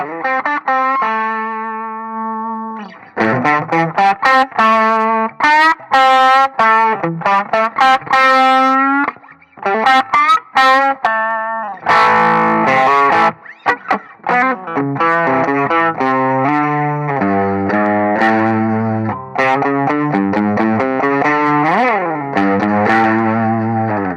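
An overdriven electric guitar through a TS10 pedal and Thermion Zero amp simulator plays a run of sustained notes and chords with a thick, slightly nasal distorted tone, loud and continuous.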